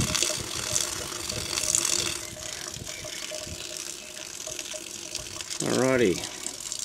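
Water runs from the outlet of a solar batch pre-heater tank in a steady gushing rush, with a brief mechanical creak near the end and someone speaking briefly.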